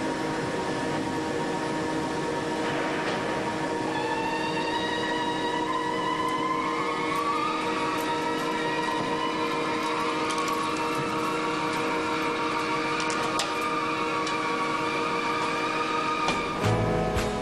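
A wheel lathe machines a Shinkansen train wheel, cutting it down from 850 to 845 millimetres in diameter, with a constant industrial hum and sustained tonal whines that slowly rise in pitch, steady throughout with no voices.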